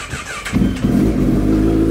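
A Honda CB1000 motorcycle engine starts for the first time that day: a brief starter whir, then it catches and settles into a loud, deep, rumbling idle close by.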